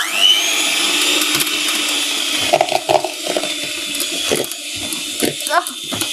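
Butter and brown sugar are beaten together for chocolate chip cookie dough, producing a loud, close, motorized whirring with rattling, clattering bursts that rise and fall throughout.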